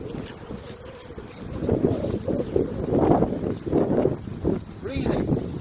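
Outdoor wind gusting across the microphone with a broad, rushing rumble that swells and eases, steady throughout and fairly close, with voices talking over it.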